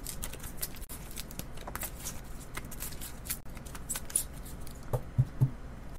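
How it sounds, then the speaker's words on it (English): Soft, rapid riffling and papery shuffling of tarot cards, close and quiet, continuing steadily with a few light taps toward the end. "And let me shuffle."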